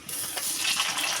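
A rohu fish head, marinated in salt and turmeric, is dropped into hot mustard oil in a wok, giving a brief, close burst of crackling sizzle with no voices.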